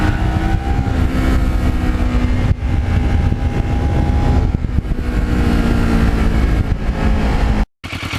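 Twelve-year-old entry-level Kawasaki Ninja motorcycle riding on a road, its engine droning steadily and loud throughout with rushing wind, a brief dip near the end.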